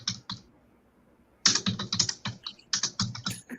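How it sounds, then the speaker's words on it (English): Computer keyboard being struck hard and fast, two short bursts of clattering keystrokes separated by a brief pause, close and clear with no voices. "You're slapping on the keyboard right now."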